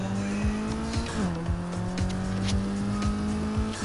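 A car in the Need for Speed racing game accelerates hard with loud, continuous engine drone and squealing tires, one gear shift partway through, steady and close with no talk.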